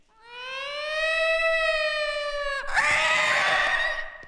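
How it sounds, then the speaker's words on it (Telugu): A loud, steady siren tone holds at one pitch, then abruptly shifts to a harsher, wavering wail, close and continuous. "అంబులెన్స్"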